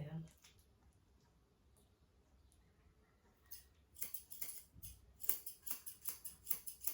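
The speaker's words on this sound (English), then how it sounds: "These are my little Dracono scissors." Small Dracono grooming scissors snip around a pet's face in quick, crisp clicks, some in rapid bursts, close and fairly faint, with a soft voice speaking in between.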